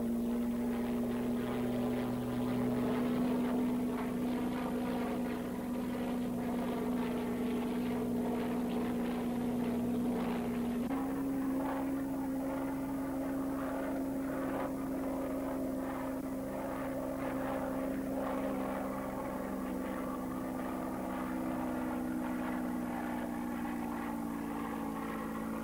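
A C-130 Hercules military transport plane drones with its propeller engines, a steady, loud, sustained hum and throb with a faint pitch shift midway, no voices.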